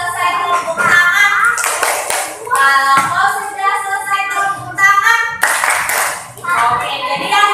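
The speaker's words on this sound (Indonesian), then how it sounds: "Kalau mau sudah selesai tepuk tangan." A third-grade elementary school class clapping together in rhythmic bursts, loud and close, with children's voices chanting or singing along between the claps.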